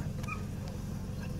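A Belarusian hound whimpers before a driven deer hunt, giving a few brief high whines over steady low outdoor rumble and background noise.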